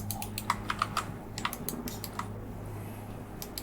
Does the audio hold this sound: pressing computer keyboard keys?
yes